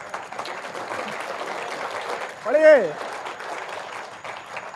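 Audience applause at a Hindi poetry gathering, a kavi sammelan, heard as a diffuse clapping wash under a man's speech throughout, with a brief sung or drawn-out vocal phrase rising over it near the middle.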